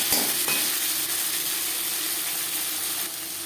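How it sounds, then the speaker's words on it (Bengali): Chopped onion and tomato pieces hitting hot oil with five-spice tempering, a loud burst of sizzling at the start settling into a continuous close, steady hiss. "10-15 সেকেন্ড 5 ফোড়ন ভেজে নেওয়ার পর দিয়ে দেবো পেঁয়াজ কুচি"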